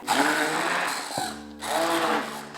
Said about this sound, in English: this is my handheld blender that I like to use